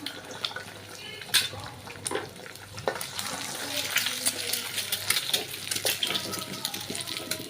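Onions frying in a pan with a steady sizzle and crackle, plus the scrape of stirring and some watery splashing close by, with no talking.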